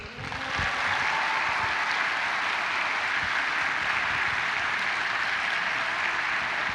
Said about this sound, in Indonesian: Jadi kita berikan aplaus yang paling meriah untuk Jonathan dan Patrick